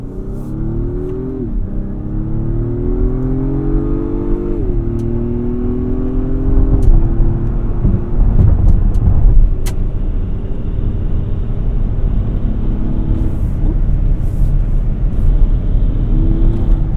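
An Acura MDX Type S accelerates onto the highway, its engine note rising through a gear change into a steady, loud cabin drone with tire and road rumble underneath.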